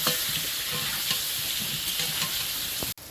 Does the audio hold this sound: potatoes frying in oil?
yes